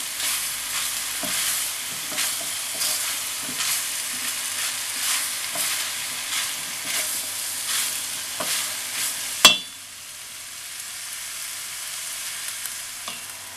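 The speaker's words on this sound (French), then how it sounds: "je vais faire cuire un peu mes courgettes" Courgettes sizzle and crackle in a frying pan, stirred with periodic scraping strokes close by; a sharp knock interrupts midway, after which the frying continues more quietly, with no speech.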